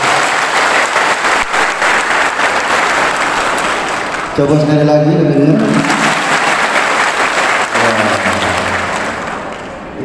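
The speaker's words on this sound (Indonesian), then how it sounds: "Coba tepuk tangan lagi yang kuat," Strong, unified applause from an audience at a civil servant inauguration fills the room almost continuously, with someone speaking over it on a microphone partway through.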